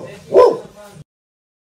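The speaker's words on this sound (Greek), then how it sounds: "Αυτό το σκυλί σήμερα δεν θα με αφήσει να βγάλω στο ωραίο" A dog gives a single sharp bark followed by a short whine, then silence and a brief clipped yip at the end, close and fairly loud.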